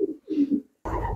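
Pigeons coo inside a pigeon loft in a few soft, low, throaty phrases close by, followed by a louder, denser burst of cooing and rustle.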